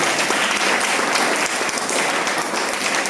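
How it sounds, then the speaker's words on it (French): A church congregation applauds their musician during a service, a dense, continuous burst of clapping that fills the room for a few seconds. "Est-ce qu'on peut acclamer pour lui?"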